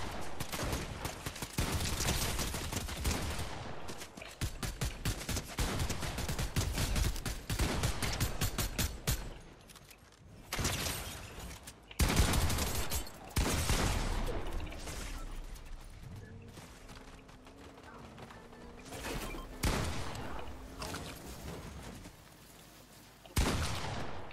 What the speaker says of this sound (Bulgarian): Стреля.